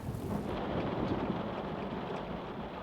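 A thunderstorm rolls on steadily, with a continuous dense wash of heavy rain and low rumbling thunder that stays loud throughout, with no voices.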